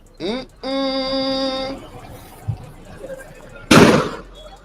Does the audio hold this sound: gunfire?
yes